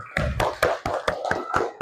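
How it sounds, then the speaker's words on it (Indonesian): A classroom of students clapping hands in a quick, evenly spaced series of about eight sharp, close claps, with nothing else heard. "Kasih tepuk tangan dulu"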